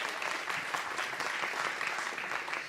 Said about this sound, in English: So I applaud him.